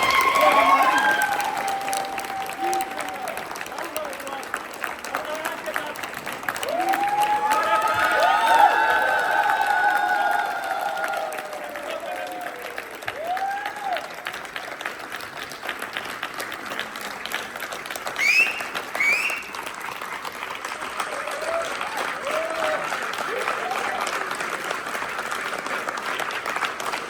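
Theatre audience applauding after a Hindi stage performance of the play Mahabhoj, a sustained wash of clapping lasting the whole stretch with a few cheers, swelling midway and staying loud throughout.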